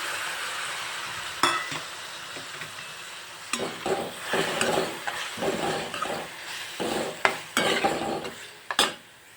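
Chopped tomatoes frying and being stirred in golden-brown garlic paste, a steady close sizzle broken by scraping stirs of a spoon against the pan, with no talk.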